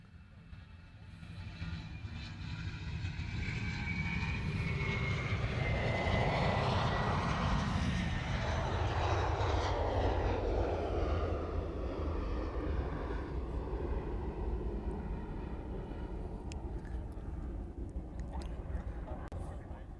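A Qantas airliner at Honolulu airport roars steadily as its jet engines rise to a broad, loud peak and then hold a sustained rumble, heard from a distance outdoors.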